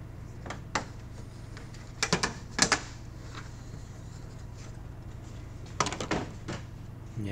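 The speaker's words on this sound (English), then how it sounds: "You start on the outside edge and pop the first clip free, and then you can slide your hand behind the bumper cover there and sort of unzip it and snap your way around." Plastic retaining clips popping free from a 2021-2023 Toyota Sienna bumper cover as it is pried off by hand, heard as a few clustered sharp snaps and clicks over a steady low background hum.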